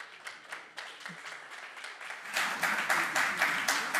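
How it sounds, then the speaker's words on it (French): Audience applauding panelists at a French-language panel event: rhythmic clapping begins sparse and moderate, then swells into louder, denser rhythmic clapping in the second half. "vous pouvez même les applaudir"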